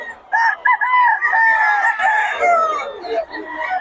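A Boston Roundhead rooster crows loudly and close, a long drawn-out call with a stuttering start, at a crowded market in Bocaue.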